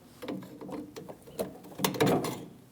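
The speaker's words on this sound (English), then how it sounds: "Remove the ground strap from the stud." A ground strap pulled off its stud on a 2011-2018 Ram 1500 during fuel tank filler neck work, heard as a close series of irregular small metallic clicks and rattles building to a louder scraping burst near the end.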